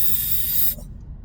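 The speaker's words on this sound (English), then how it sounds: "Hopefully the camera catches the spray because that's pretty cool." An aerosol can sprays a freezing jet onto a panel with a loud, steady hiss that cuts off abruptly after about three-quarters of a second, leaving faint low background noise.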